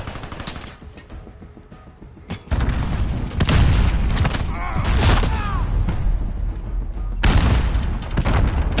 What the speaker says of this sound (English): Grenade down!